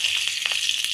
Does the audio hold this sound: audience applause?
no